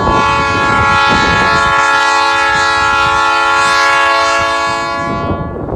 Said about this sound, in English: here comes the train right now